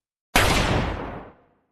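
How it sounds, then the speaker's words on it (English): A single loud gunshot sound effect, a sharp blast after a moment of silence that decays into a long rumbling echo, alone. "and then a single gunshot."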